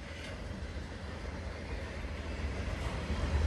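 A CSX freight train made up of auto rack cars rolls past nearby with a steady, broad rumble that slowly grows louder.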